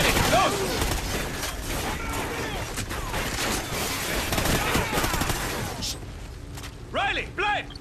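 Dense, continuous automatic gunfire and explosions from the Call of Duty Ghosts campaign fill the clip, with rapid bursts and booms, easing near the end as a few sharper shots ring out.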